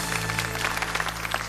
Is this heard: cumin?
no